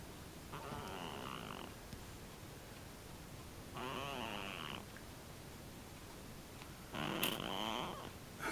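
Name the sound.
cat snoring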